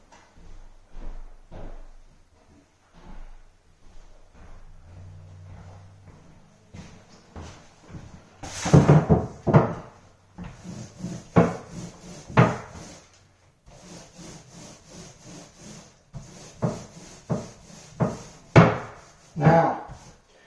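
Wooden bath vanity cabinet doors being handled and fitted, with a run of close wooden knocks, bumps and rubbing clatters, some sharp and near, spread unevenly across a quiet room.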